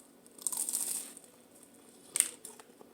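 Crunchy bites into a fried chicken egg roll filled with cabbage and carrots, two crisp crackling bursts close to the mic with quiet chewing between.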